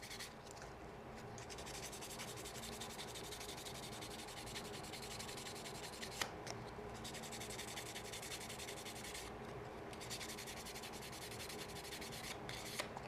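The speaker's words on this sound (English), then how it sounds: "you can take your sandpaper here and actually start trying to get that one smooth surface" Sandpaper rubs steadily over the surface of a plastic Gunpla model kit part in a continuous close scratchy hiss, with a few brief pauses and small knocks and no voices.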